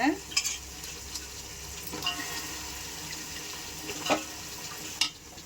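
Carrots, beans, potatoes and peas sauté in oil while being stirred, giving a steady low sizzle with scraping stirs and a few sharper clinks of the utensil against the pan, with no voices.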